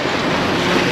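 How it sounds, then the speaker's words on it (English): Steady, loud wind rushes across a sailboat on a tributary of the Chesapeake Bay, a dense broadband roar with rumbling microphone buffeting and faint water wash, continuous throughout with no voices. "the wind has picked up as I turn the corner"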